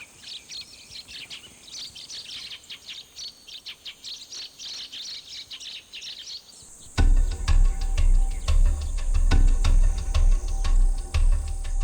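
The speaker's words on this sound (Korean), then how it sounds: "삼릉은 참새들이 종종 모래 목욕을 위해 찾아오는 곳이죠." Sparrows chirp busily around a treeless royal tomb mound on Gyeongju's Namsan, a dense stream of quick tweets over steady insect-like hiss, with louder low rumbling noise joining in the second half.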